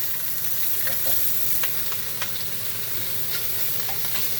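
Smoked sausages sizzle and caramelize in a pan over high heat, a steady close crackling hiss with scattered small pops and a few stirring scrapes, no talking.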